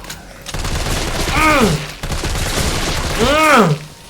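Gunfire in Resident Evil 3 Remake comes as loud repeated bursts of shots, mixed with creature shrieks that rise and fall twice, and a voice speaking over the action.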